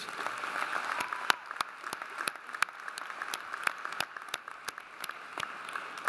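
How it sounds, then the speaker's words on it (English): Applause for graduates at a commencement ceremony comes as scattered, crisp claps from a crowd, fairly sparse and steady throughout. "can we give a round of applause to all the graduates?"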